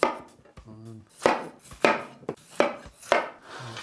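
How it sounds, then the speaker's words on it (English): A knife cuts potatoes in half on a board, making about six sharp, evenly spaced chopping thuds close up. Faint kitchen sounds fill the spaces between the cuts. "These, super easy. I'm just gonna cut them in half."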